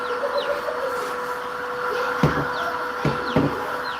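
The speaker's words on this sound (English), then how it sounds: "These chickens are crazy." Chickens in a hatchery cluck and squawk in short, scattered calls over a steady mechanical hum, with a few louder knocks and clatters close by.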